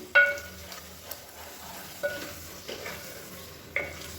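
A spatula stirs a thick gravy with curd in a pan as the oil separates. A few sharp scraping strokes ring out over a faint, steady sizzle, with no voices.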